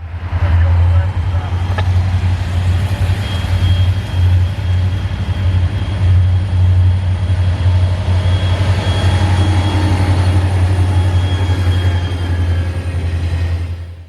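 A loaded CSX train led by SD50 and SD40-2 locomotives passes nearby, a loud steady low diesel drone with rolling wheel noise and faint squeals, sustained for the full length, with a voice speaking over it.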